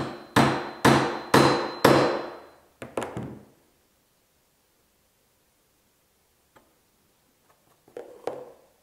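Hammer blows driving a punch through wood in a blanket chest build, four loud evenly spaced strikes followed by two lighter taps, then silence and a faint knock near the end.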